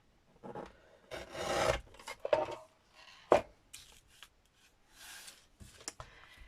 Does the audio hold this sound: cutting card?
yes